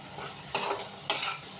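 Spice paste with turmeric, Kashmiri chili, sugar and salt sautés in a pan, a steady low sizzle broken by two loud scraping stirs of a utensil, close up with no voices.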